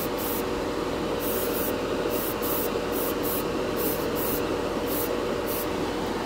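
Clear coat sprayed over Alclad chrome paint, a steady close hiss of airbrush or spray with faint rhythmic pulses above it, continuous and loud throughout.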